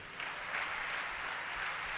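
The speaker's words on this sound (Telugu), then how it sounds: "నమ్మిన వారు ఒక్కసారి చప్పట్లు కొట్టండి" A church congregation claps together at a gospel gathering, a soft, distant burst of applause held for about two seconds under a faint room wash.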